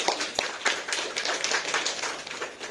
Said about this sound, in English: she deserved a round of applause to give her